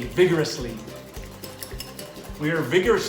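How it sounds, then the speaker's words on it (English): A thickened flax seed mixture being vigorously whisked in a bowl, bursts of scraping, clinking strokes at the start and end with quieter stirring between. "going to whisk this again to really make it thick"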